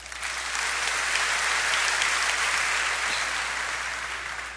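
Church congregation at a worship service breaks into sustained applause, a dense roar of clapping that swells and then tapers slightly toward the end.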